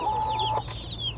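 A broody hen with chicks in a suburban backyard coop, giving a short run of soft clucks close by, with faint chirps from the chicks.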